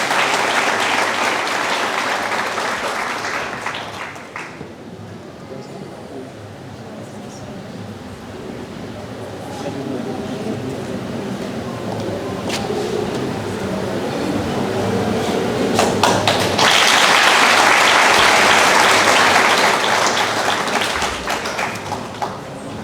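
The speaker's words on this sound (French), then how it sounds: "Applaudissez-la, s'il vous plaît." An audience at a school graduation ceremony applauds in a long, dense wave of clapping that eases off in the middle, then swells strong again toward the end.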